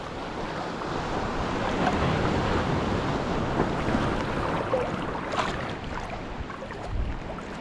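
Ocean waves roll and wash continuously, with wind buffeting the microphone and no voices.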